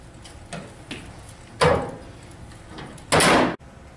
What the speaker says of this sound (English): When you close the brush door, it will hold the entire plate into place.